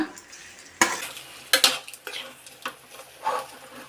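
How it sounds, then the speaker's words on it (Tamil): Whole green moong dal is stir-fried in a pan. Sharp spoon scrapes and clanks against the metal mark irregular stirring strokes over a soft, continuous sizzle, close and fairly loud. "இப்போ எல்லாம் கலரணுமா."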